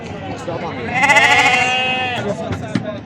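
Sheep and lambs bleat loudly at a livestock sheep market in Fuzuli, one strong drawn-out wavering bleat in the middle with shorter calls and crowd talk around it.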